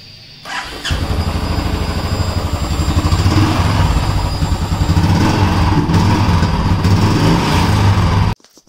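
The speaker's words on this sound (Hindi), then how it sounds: "चलिए एक बार आपको बाइक स्टार्ट करके भी दिखा देते हैं" A Royal Enfield Classic Signals motorcycle in Sand Storm finish starts with a short crank. The single-cylinder engine catches into a loud, close, steady thumping idle that runs for several seconds before cutting off abruptly at the end.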